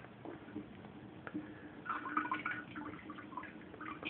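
Water overflows from a container during a first ormus rinse, a faint, continuous trickle with small drips and splashes that swell slightly midway, under a muffled, low-fidelity background.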